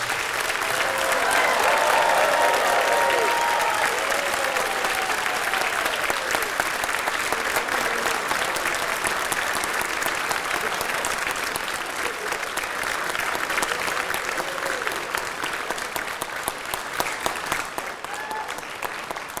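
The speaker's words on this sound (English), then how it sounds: "For all your clapping." Audience at the Golden Apple Awards for teaching excellence applauding steadily for the full stretch, a dense, loud wash of many hands clapping, with a few faint cheers early on.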